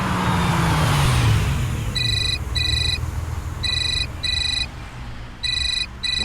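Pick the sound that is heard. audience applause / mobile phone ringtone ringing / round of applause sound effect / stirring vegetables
mobile phone ringtone ringing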